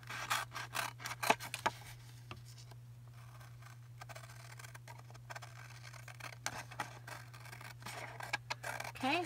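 Paper being cut with scissors for a junk journal envelope, a run of close, crisp snips and rustles with quiet pauses between them and a steady low hum underneath.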